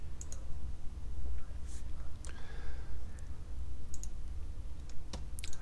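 Computer mouse clicks come in scattered, crisp taps and quick double clicks close up, over a low background rumble, with no speech.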